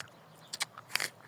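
Crisp bites into a crunchy native apple grown in the cool Al Baha region of Saudi Arabia: a couple of sharp crunches followed by a louder burst of crackling bites, close and quiet otherwise.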